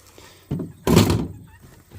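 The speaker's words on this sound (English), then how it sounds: "This is a door off a potbelly stove. Chunk of cast iron." A heavy cast iron door from a potbelly stove handled indoors, giving a dull clunk then a louder broad scraping clank, close by and brief.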